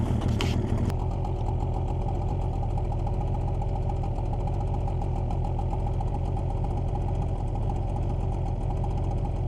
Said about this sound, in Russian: Мотор стал работать еще ровнее.